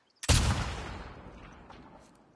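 A single loud gunshot fired at a red sign in The Last of Us Part II, a sharp close crack followed by a long fading echo tail, with no talk.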